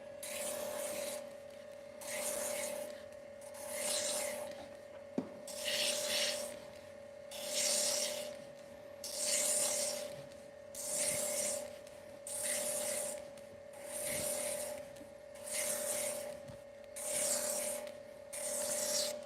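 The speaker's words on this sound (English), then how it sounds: "I'll just do a quick sanding down through here." Rhythmic rasping sanding strokes along the edge of a layered belt, about a dozen even back-and-forth passes, close and steady with no talking.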